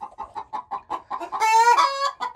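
Chickens in a coop cluck in a quick, regular rhythm close by, then one hen lets out a louder, drawn-out squawk before the clucking resumes; no talking.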